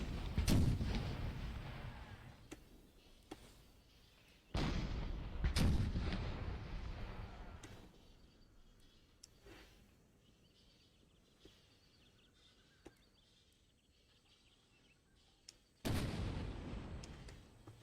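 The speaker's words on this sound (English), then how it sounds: "Here we can see the bombardment of the Confederation." Artillery bombardment in Empire: Total War during an American Civil War battle: three heavy, booming cannon volleys rolling out over a long rumbling tail, with scattered distant shots and faint bird calls between them.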